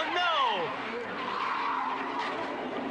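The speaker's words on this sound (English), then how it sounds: "Zanardi up the inside, and can Paul Tracy respond? Yes, but they lock wheels" Tires squeal and skid as two CART IndyCar race cars lock wheels in a 1997 race, a sharp descending screech at the start over a loud roar of crowd and engines, with excited commentary over it.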